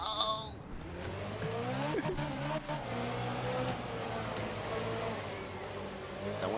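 Rally car engine in The Art of Rally, loud and continuous, revving up and down through the gears with tire squeal and skidding, no voice over it.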